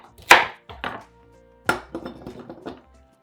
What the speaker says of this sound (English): now we're gonna cut the ends off, chop it up a little bit